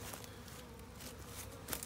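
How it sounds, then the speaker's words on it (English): Bees buzz faintly and continuously at a beehive entrance covered with stapled screen, a soft, low drone in quiet outdoor air with a light tap near the end. "there's a couple bees that want to get in"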